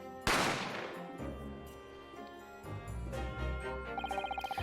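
A sudden loud gunshot blast in The Great Ace Attorney video game, ringing out and decaying over a sustained musical tone, then tense game music with a rapid pulsing rhythm builds underneath.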